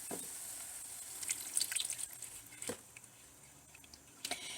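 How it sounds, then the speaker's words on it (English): Small amounts of water poured into gravy cooking for shepherd's pie, heard as a few faint, brief splashes and drips with quiet gaps between them. "I'm not exactly sure how much water this will take, so I'm just going to add a little bit at a time."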